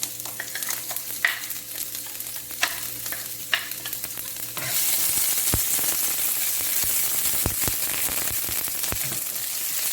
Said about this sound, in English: Now we're going to add the onions.